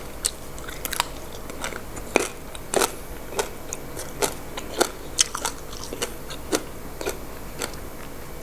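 Sharp crunchy bites and chewing of grilled pork, a dozen or so brittle crackles spaced irregularly, close to the mic with no talking.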